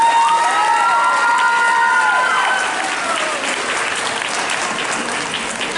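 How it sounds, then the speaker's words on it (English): Graduation-night crowd applauding the Grade 8 graduates, loud sustained clapping with cheers and whoops on top, easing slightly toward the end. "I'd also like to give a huge round of applause for all of the graduates tonight"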